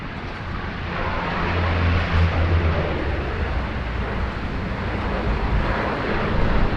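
A Rex Saab 340 turboprop airliner arriving at Sydney Airport on a rainy day, a steady broad engine roar with a low droning hum, moderately loud and slightly distant, with no voices.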